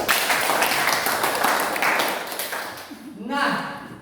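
Students in a classroom give a round of clapping, dense and steady at first and fading toward the end, where a voice briefly speaks.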